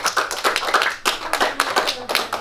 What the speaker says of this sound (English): Give Ella a clap.